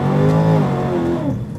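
A tuned Dodge engine pulls hard under throttle, its loud harmonic drone rising steadily in pitch as it accelerates, heard close with no talking.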